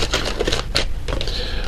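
Quick riffling and slapping of tarot cards being shuffled close by, a few brisk bursts in a row.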